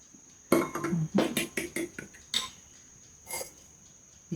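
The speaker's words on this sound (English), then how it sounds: "let me beat the eggs a bit because my bowl is not that big" Eggs are whisked with a utensil in a small bowl, giving a run of quick clinking taps against the sides in short bursts, close and fairly loud, then a pause and one last brief rattle.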